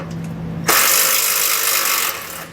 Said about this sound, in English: we're going to remove a small bolt that's holding a ground wire on